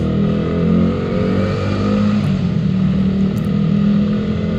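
A Yamaha R15 motorcycle exhaust fitted with a DB killer drones in a loud, steady, close hum, with a deep rumbling tone held with little change in throttle and no voices.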